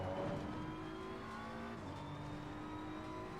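A race car laps the Nordschleife in Assetto Corsa Competizione with its engine held at full throttle. The drone is steady and sustained, with no voice over it.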